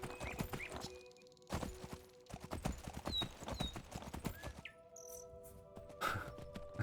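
Horse hooves clip-clop in a steady rhythm in the fantasy game Skyblivion, with a brief whinny, scattered bird chirps and crickets in a quiet outdoor setting.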